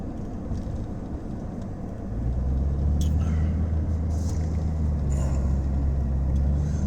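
A car driving along the road, a steady low rumble of engine and road noise inside the cabin that swells and grows heavier partway through, with faint ticks and rustles above it.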